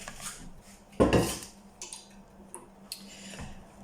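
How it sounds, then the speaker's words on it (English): Chopped onion tipped into a mixing bowl while preparing Lithuanian kugelis, giving one loud clattering knock of food and utensil against the bowl, then a few faint scattered clinks in a quiet kitchen. "and our onion into the bowl"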